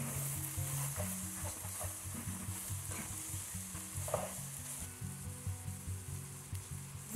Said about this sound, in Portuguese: Aqui o colorau, uma colher bem cheia de colorau. Vamos mexer.